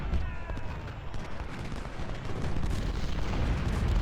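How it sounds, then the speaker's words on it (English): Artillery fire in Ultimate General: Civil War during a Confederate campaign battle at Hall's Ferry: a continuous rumbling barrage of booms, dense and loud throughout, with no distinct pauses. "Whoa, I don't know what's hitting them. Oh, it's artillery fire."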